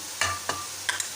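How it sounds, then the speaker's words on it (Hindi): Liver with chilli and dry coriander fries in a pan, a brief sizzle broken by three or four quick scraping stirs. No voices. "नमक अब इनको अच्छी तरह फिर फ्राई कर लेंगे, अच्छी तरीके से भून लेते हैं।"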